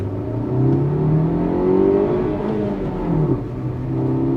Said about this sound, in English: Now in first gear, listen to the engine.